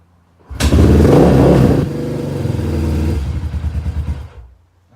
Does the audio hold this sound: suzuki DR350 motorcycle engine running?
yes